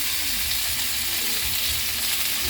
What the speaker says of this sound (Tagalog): sunod ilagay ang ating kamatis para maluto siya